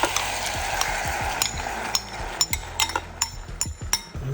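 Cooked pinto beans tipped into a hot pan of sautéed onion, jalapeño and garlic, with a soft background sizzle and a run of light clinks and scrapes as a utensil stirs them, growing busier toward the end.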